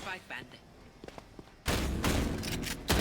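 Shotgun blasts from the Shorty sidearm in a Valorant match, loud and close, sounding as a dense burst of firing after a quieter stretch of game sounds, with a commentator talking over the action.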